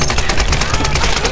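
Rapid automatic gunfire in Tomb Raider, a fast burst of roughly a dozen sharp, evenly spaced shots, loud and close, with a voice partly underneath.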